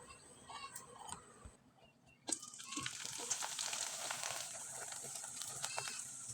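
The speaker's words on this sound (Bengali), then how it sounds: "এবার আমি কয়েকটা পিঠা আপনাদের তেলে ভেজে দেখিয়ে দিচ্ছি" Atar pitha, light flour cakes, drop into hot oil for deep-frying, and a sudden loud sizzle breaks out and holds as a steady, bubbling hiss after a quieter start.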